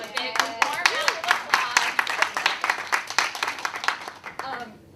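Enthusiastic audience clapping at a political caucus event, sharp individual claps building into a brisk round that tapers off toward the end, with voices audible underneath.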